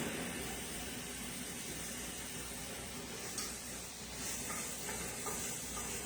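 Food browning in a pan on a stove for country cooking, a faint steady sizzle and hiss that stays constant throughout, with no talking.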